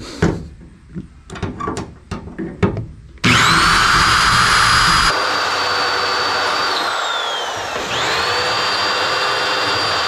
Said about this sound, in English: just when I thought I was done with the spot weld drill bit, here we are doing more spot welds